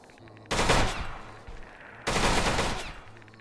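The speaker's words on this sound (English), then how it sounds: "Let's use the AK." AK rifle fire in the survival game Misery: two loud bursts of automatic fire, each lasting under a second, separated by a short pause over a low, steady game backdrop.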